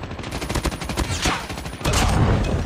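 A RUS-79U rifle fires in Call of Duty Mobile, rapid loud automatic bursts rattling close, with a brief gap and then another sustained burst.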